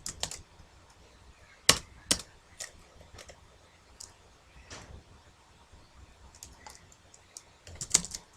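A computer keyboard clacks as a printf statement is typed into C code, with sparse, irregular keystrokes and a few sharper, louder taps spread across quiet gaps.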